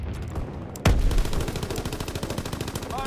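Anti-aircraft gunfire in Call of Duty WWII: a sharp loud blast followed by a rapid steady stream of repeating shots, close and continuous over background ambience.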